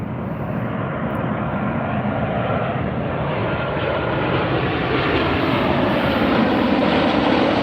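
A Southwest airliner on approach to Las Vegas airport gives off a steady, fairly loud jet rumble that grows a little as it nears, with no talking over it.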